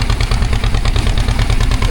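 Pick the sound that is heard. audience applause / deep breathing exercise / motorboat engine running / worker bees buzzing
motorboat engine running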